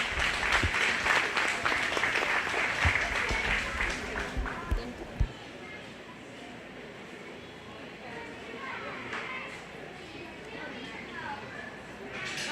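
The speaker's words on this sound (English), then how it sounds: "Go ahead and give that young lady a round of applause." At a 4-H and FFA goat show, the audience applauds a young exhibitor with a burst of clapping that lasts about five seconds, then fades into murmuring crowd chatter and faint ring noise.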